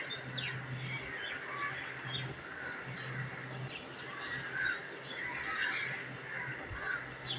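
Birds chirp and twitter in the morning outside a home balcony, bright scattered calls over a faint steady hum, fairly soft and irregular throughout.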